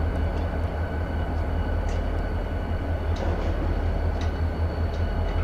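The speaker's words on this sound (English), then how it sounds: "That pair of locomotives then reverses direction, goes to a different set of tracks to get cars." A pair of freight locomotives moves through the Green River rail yard, producing a steady, continuous low rumble with faint metallic squeals and clanks on top, heard alone without talking.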